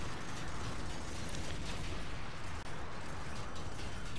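Bombs dropped by enemy bombers in a video game explode in a dense, continuous rumbling roar, loud and unbroken throughout with a brief dip near the end.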